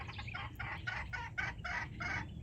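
A pet hen clucks close by in a rapid, even series of about seven throaty pulses, moderately loud over a low background rumble.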